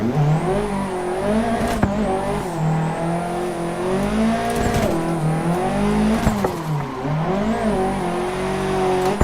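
Nissan S14 Silvia engine in Assetto Corsa VR on a time attack lap, loud and close, revving up and down through gear changes with tire squeal, no talking.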